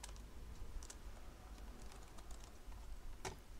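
Keys on a computer keyboard are tapped in quick, sparse clicks, faint and close, over a steady background hiss while a web page is built in Visual Studio.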